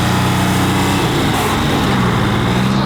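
A dirt bike that has not been warmed up runs at a motocross track. Its engine gives a loud, close, steady, buzzy drone with a rough, uneven edge.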